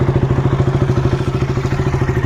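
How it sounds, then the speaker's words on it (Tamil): KTM RC200 BS4 single-cylinder engine idling close by, a loud, even thumping beat repeating steadily with nothing else over it. "அந்த டுக்கு டுக்கு டுக்குங்க கைஸ்."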